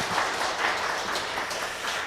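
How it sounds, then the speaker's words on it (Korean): A congregation applauds at a Korean church's Sunday worship service, with steady, even clapping from many hands through the whole stretch and no speech over it. "하나님께 영광의 박수 하겠습니다"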